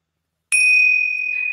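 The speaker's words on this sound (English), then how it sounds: "I will start meditation with bells" A single meditation bell struck once, giving a clear bright ring that starts suddenly after a moment of silence and sustains with a slow, steady decay.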